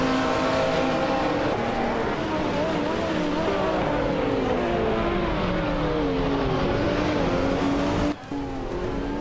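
Race cars battle closely in a video game race, their overlapping engines whining and sweeping up and down in pitch as they rev hard, with brief tire squeal and a sudden dip near the end.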